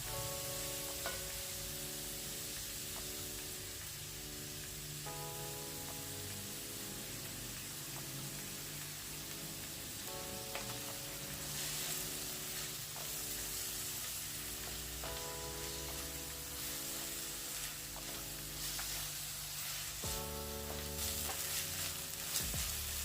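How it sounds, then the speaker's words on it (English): Onion frying with ginger and garlic paste for a South African chakalaka gives a soft, even sizzle with periodic stirring clinks, faint and steady throughout, with no voices. "I'm gonna fry together for another 1 minute."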